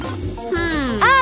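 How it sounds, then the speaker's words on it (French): A cat gives a short rising meow close by, followed by a second brighter mew, with a voice talking faintly just before. "Mais où est-ce que je vais mettre mon chat?"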